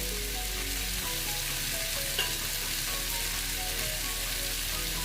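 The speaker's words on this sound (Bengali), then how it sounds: "আমি ভালো মতন এটা কষিয়ে নেব মোটামুটি এটা কষানো হয়ে এসছে" Bengali-style green jackfruit curry fries and sizzles in a pan while being stirred, a constant close crackle with soft scraping, and no voices.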